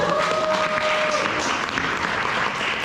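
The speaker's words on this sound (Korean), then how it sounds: "박수 한번 여기서 쳐야 되는 거 아닙니까?" An audience at a business seminar in a Seoul basement hall claps steadily, a dense, even wash of applause lasting the whole moment with a faint voice underneath.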